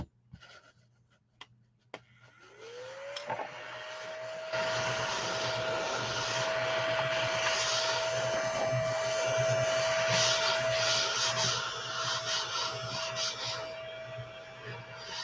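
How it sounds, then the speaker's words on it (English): A Hoover vacuum cleaner starts with a rising whine and runs loud and steady, sucking up small bits of craft wax from a surface after a few sharp clicks and taps. "Oh, let's see what the Hoover will do."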